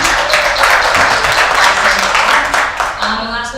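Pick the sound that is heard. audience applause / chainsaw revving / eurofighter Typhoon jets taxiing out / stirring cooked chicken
audience applause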